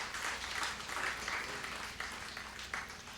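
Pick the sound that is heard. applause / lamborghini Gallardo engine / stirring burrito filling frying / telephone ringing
applause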